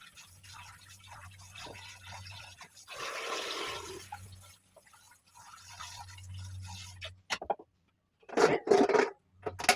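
Water runs and splashes in short bursts as something is washed by hand in a rural home kitchen, quiet trickles and louder gushes with pauses between, ending in a few sharp close spurts.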